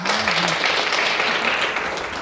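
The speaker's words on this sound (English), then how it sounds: "Clap for her." Classroom students clapping for a classmate during a Menstrual Hygiene Day celebration at a government bilingual high school, a dense short burst of close applause with a brief voice at the start.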